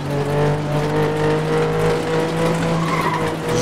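A damaged car engine in the FlatOut 2 racing game drones steadily and loudly throughout, with a sustained strained tone and tyre noise, no talk over it.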